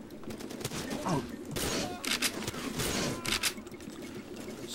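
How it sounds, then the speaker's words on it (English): Gunfire in the video game Far Cry 2, a dense crackling fusillade of rapid shots and bursts running almost continuously, loud and close. "We're taking fire, sir! We're taking fire!"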